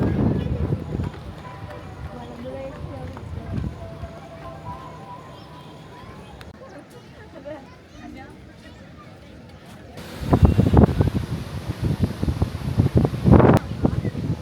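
Wind gusts at Malampuzha buffet the microphone in bursts, mild at first and then stronger and louder toward the end, with people talking throughout.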